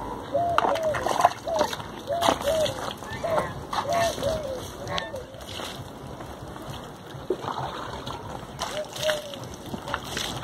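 Water splashes and sloshes as it is poured out after cleaning in a cattle shed with a Gir cow and newborn calf, uneven bursts of splatter with a voice talking over them.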